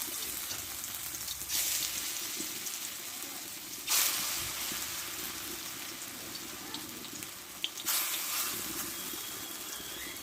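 Lentil and pointed gourd vine fritters fry in hot oil, a steady close sizzle with brief louder bursts of crackle as pieces shift, no talking throughout.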